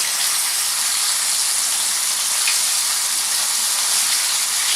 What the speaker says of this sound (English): I hear our chicken getting sizzling nicely.